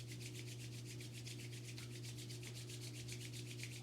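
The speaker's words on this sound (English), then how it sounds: "And as the palms begin to rub, you keep that gentle pressure" Palms rubbing together under gentle pressure during a yoga kriya, a steady soft hiss of skin friction that pulses in a regular back-and-forth rhythm over a constant low hum, close and quiet with no talking.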